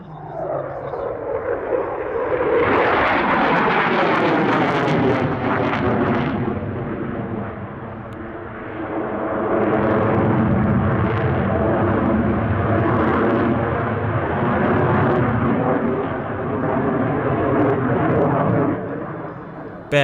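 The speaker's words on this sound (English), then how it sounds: "Another very modern aircraft in the flying display now," A Dassault Rafale C fighter jet performing a solo flying display at the Meaux Airshow, with a loud, sustained roar that swells and fades as it passes, and commentary over it.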